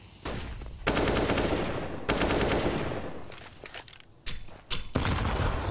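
Scout sniper and M4 rifle fire in a professional CS:GO match between Astralis and Liquid on Dust 2: loud, sharp bursts of shots, some rapid and clustered, with brief gaps between volleys.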